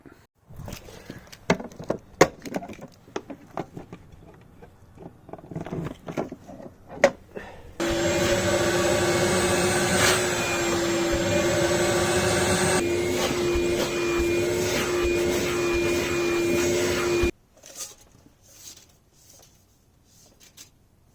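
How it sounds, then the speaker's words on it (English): Clattering and bumping give way to a vacuum cleaner switched on inside a Chevrolet Tahoe for about ten seconds, its steady whining roar shifting pitch once before it cuts off. "So I'm gonna go get the vacuum and do a clean down in here"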